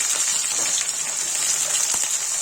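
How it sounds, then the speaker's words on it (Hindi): Potato pieces frying in hot oil for an okra and potato curry, a steady dense sizzle with constant crackle and spitting, close and fairly loud, with no talking. "अब आलू फ्राई करने जा रहे हैं।"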